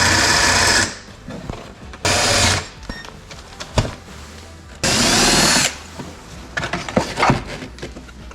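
A power drill whines in short loud bursts while drilling out rivets on a Can-Am Maverick X3 MAX lower door panel, with clicks, scrapes and handling noises between the bursts.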